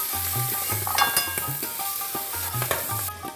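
Eggplant pieces and green peas fry in a pan, crackling steadily close up while a utensil stirs them in quick rhythmic scrapes and taps.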